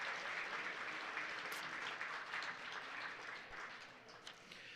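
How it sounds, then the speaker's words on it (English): Audience applause at a live community crowdfunding event, a steady wash of many hands clapping that holds evenly at a moderate, slightly distant level and tapers a little toward the end, with no talking over it. "Please give them a round of applause and thank them for their support."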